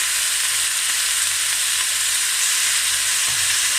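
Bulgogi meat sizzles loudly and continuously in a hot pan, a dense, close, steady hiss and crackle with no pauses.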